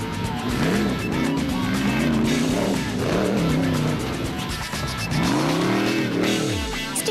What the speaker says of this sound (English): Teaming along behind the Sewolds were Nardus and Louis Alberts in a healthy-sounding Raxabat.